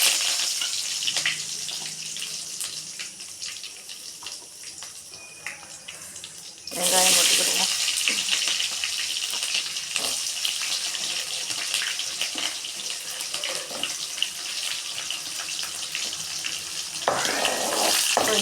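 Curry leaves drop into hot oil for a village-style dried-fish curry, and a loud hissing sizzle bursts in suddenly, then holds steady and strong, with a brief earlier stretch of quieter kitchen noise and some talking.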